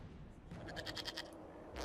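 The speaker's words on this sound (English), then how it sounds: "we discover this man attacking the building with a goat" A goat bleats in the video game Dragon Age Inquisition, a short wavering bleat or two, fairly faint, with no voices over it.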